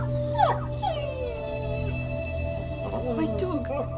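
In the game A Plague Tale: Innocence, a dying dog lets out high, wavering whimpers and drawn-out whines that rise and fall, set over a low, steady ambient drone.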